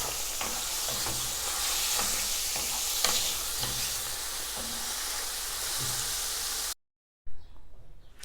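Chicken meatballs frying in oil give off a dense, steady sizzle with faint stirring clicks. The sizzle cuts out abruptly near the end, then returns briefly after a moment of silence.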